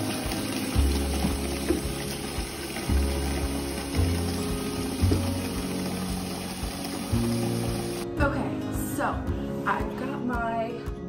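Water running steadily into a bucket being filled with Mr. Clean cleaner, a continuous near splashing pour with occasional thumps, ending abruptly before a short burst of nearby speech.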